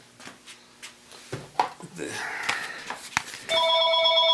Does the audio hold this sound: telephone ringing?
yes